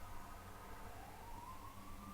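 An ambulance siren wails faintly outside with a slow rising tone, distant and muffled, and no one speaks over it.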